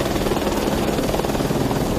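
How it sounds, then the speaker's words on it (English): Firefighting helicopter flying overhead during wildfire operations, its steady loud rotor thump and engine roar continuous throughout with no voices. "So when the helicopter comes along, then they have a source to be able to dip their buckets in"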